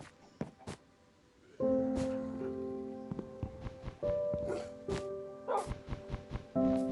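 Dogs in Minecraft giving a run of short, sharp barks at irregular intervals, set against steady tonal game sounds and soft footstep-like clicks, fairly close and moderately loud.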